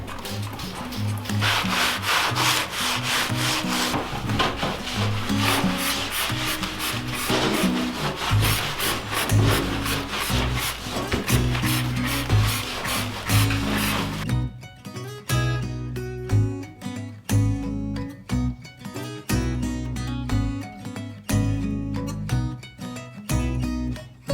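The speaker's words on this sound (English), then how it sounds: "we're gonna try to scrub out all of the boxes one more time and get some more of the poop off the walls" Steady, vigorous scrubbing inside chicken coop nesting boxes, with dense continuous rubbing and scraping strokes close by, loud throughout, and a shift in texture partway through.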